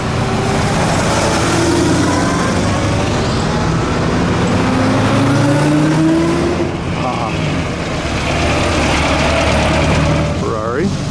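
A Duesenberg vintage car passes at the Amelia Island Concours, a steady engine rumble that stays loud throughout against outdoor crowd noise, with people talking nearby.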